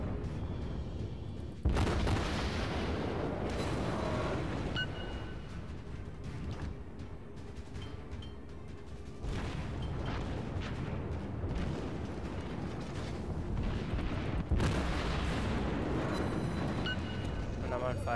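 Ship guns fire in a naval combat video game, with a loud, dense barrage of booming blasts running throughout and sharp bursts near the start and again later, mixed with game sounds and a voice talking over it.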